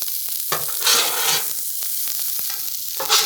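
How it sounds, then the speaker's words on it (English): Chicken fried rice sizzles on a hot Blackstone griddle while a spatula stirs and spreads it, with steady frying hiss broken by repeated scraping strokes, close and loud with no talk. "So goal here is just to heat up the rice, right? Get it fried, get some color in it."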